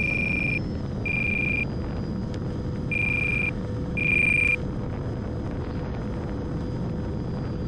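Alarm on the transmitter during an RC Jet Habu STS flight: four loud, evenly spaced electronic beeps, each about half a second long, over a steady low rumble of jet and wind noise.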